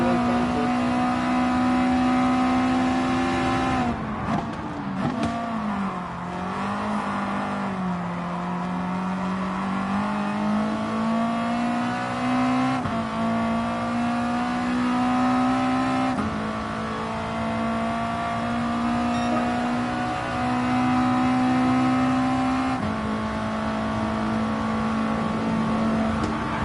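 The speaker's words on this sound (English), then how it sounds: "past that Ferrari 458 Cali, and there goes the Aston Martin V8 Kansas" Race cars in Gran Turismo Sport, among them a Ferrari 458 Italia and an Aston Martin V8, drone and rev steadily with engine pitch rising and falling through shifts, a sustained close engine note with cars passing, no talk.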